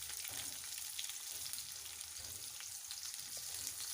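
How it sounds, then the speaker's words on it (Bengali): Chopped garlic and ginger browning in oil in a wok for a vegetable chicken noodle soup, giving a soft, even, continuous sizzle that stays steady and fairly quiet throughout, with no talking. "এগুলোকে একটু ব্রাউন কালার করে ভেজে নিচ্ছি"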